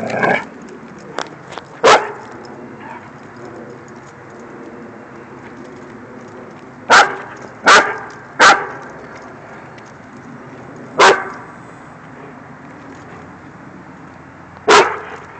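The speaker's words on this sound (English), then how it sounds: "What you barking at, buddy?" A dog barks sharply several times at irregular intervals, close and loud, with a steady low background hum between barks.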